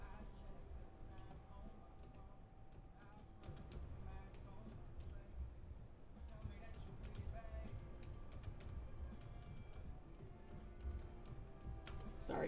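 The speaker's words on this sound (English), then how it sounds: "Sorry, typing and talking is hard." Fast, uneven clicking of a computer keyboard being typed on nearby, a quiet rapid patter of keystrokes with brief pauses, while a person speaks softly underneath.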